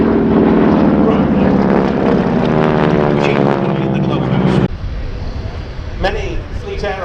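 A North American Harvard propeller aircraft drones loudly overhead at the Shuttleworth Fly Navy airshow, its engine note strong and close before dropping away abruptly and fading into quieter background noise.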